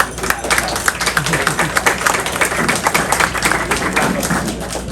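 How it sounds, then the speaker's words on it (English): A school orientation audience for grades 1 and 2 claps for a staff member, with loud, dense applause continuing throughout and low thumps and voices mixed in. "give her a round of applause"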